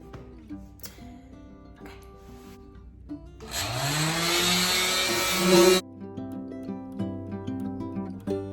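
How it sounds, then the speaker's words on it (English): A power sander grinds against the wooden legs of an antique bench in a short, loud, steady burst of a few seconds, framed by quieter handling noises before and after. "So I have other legs that I need to sand."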